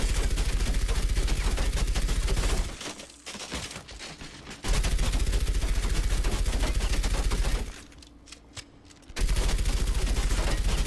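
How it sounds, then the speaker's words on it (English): Sustained automatic gunfire from a character's machine gun in the Overwatch video game, loud and continuous, with two brief pauses before the rapid bursts resume. "She got this machine gun fire."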